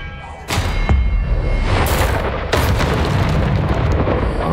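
Heavy booming blasts from a flaming spell in Hogwarts Legacy, several deep impacts a second or so apart over a rumbling, crackling fiery roar, loud and near.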